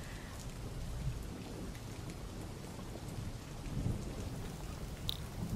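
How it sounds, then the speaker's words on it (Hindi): Heavy rain pours steadily outdoors with low rumbles of thunder, a constant dense hiss heard from inside at a moderate distance, with no voices. "बाहर इतनी बारिश हो रही है ना"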